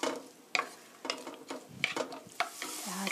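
Chopped green onions being stir-fried in a pan over medium heat: a soft frying hiss broken by a series of sharp, irregular scrapes and taps of a utensil tossing the onions, close and fairly quiet.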